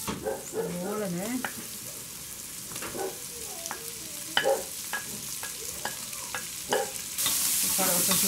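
Garlic and onion frying in a pan with calabresa sausage and jerked beef, an ongoing close sizzle punctuated by stirring clinks and scrapes, with a brief voice early on.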